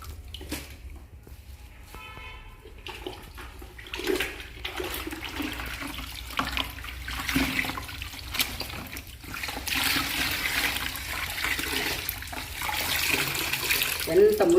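Dirty water is wrung out of door mats during washing, splashing and trickling close by in uneven gushes and drips that grow heavier toward the end.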